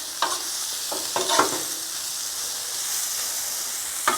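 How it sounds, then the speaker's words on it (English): Onions sautéing with bacon on a Blackstone griddle give a steady, close hissing sizzle, broken by a few short scraping stirs near the start and end. "we're just gonna saute them with this bacon"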